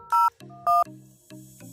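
Dual-tone dialing beeps from a VoIP softphone test call on an Elastix 4.0 server: two short loud tones, then a steady lower hum with a brief break, alone with no talk.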